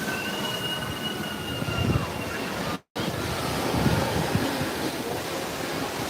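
A train at an amusement park rumbles steadily nearby with a high metallic wheel squeal running over it, broken by a brief dropout midway.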